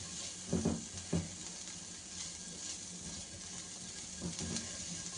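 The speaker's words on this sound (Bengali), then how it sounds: "এরপরে যে পেঁয়াজটা করে রেখেছিলাম ওটা দেব।" Chopped onions frying in butter in a pan, a steady low sizzle throughout with a few louder crackling bursts and stirring clatters near the start and end, no voices.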